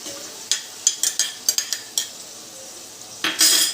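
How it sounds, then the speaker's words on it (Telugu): Ginger-onion paste with turmeric and salt is ground in a vessel, giving close, irregular clinks and scrapes of utensil against dish, with a longer scraping stroke at the end. "దీంట్లో కొంచెం ఉప్పు వేసి నూరేనండి. అలా నూరుకోండి"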